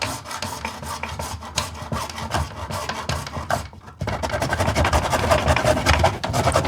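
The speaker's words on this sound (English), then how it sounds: "So I should probably use the hacksaw" A hacksaw cutting through plumbing pipe during a bathroom remodel, with rapid rasping back-and-forth strokes close by, a brief pause near four seconds, then faster, louder sawing.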